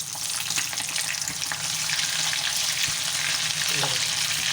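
Shami kababs sizzle and fry in a pan just after being flipped, a steady, close crackling hiss with scattered pops and faint stirring clinks throughout.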